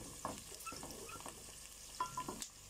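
Onions frying in oil for potato tahari rice, with light clinking and scraping stirs over a soft sizzle, a few sharper taps standing out, close and fairly quiet.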